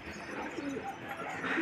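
Freshly watered and bathed pigeons, just let out of their loft onto a rooftop, give soft overlapping coos amid a steady hiss of outdoor background noise.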